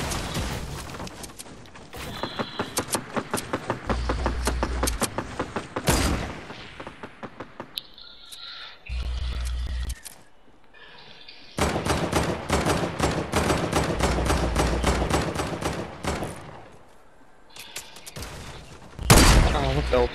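Rapid bursts of automatic gunfire in a shooter video game, dense rattling volleys broken by short pauses and a few heavy booms, with a voice talking intermittently.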